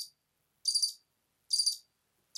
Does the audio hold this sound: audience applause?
no